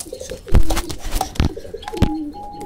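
A Giezel pigeon coos in a pigeon and bird market in Mirpur, Dhaka, giving low, throaty coos in short bursts at close range, with a faint chirp and other bird sounds around it.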